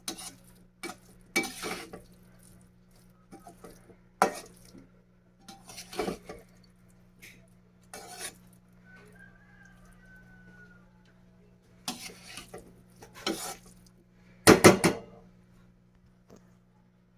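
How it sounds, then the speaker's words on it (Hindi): Mixed vegetables in a pot are stirred with masala, a spoon scraping and clinking against the pot in sparse, separate bursts between quiet pauses, over a steady low hum. "अब हम इस मसालों को सब्ज़ी में मिक्स करेंगे।"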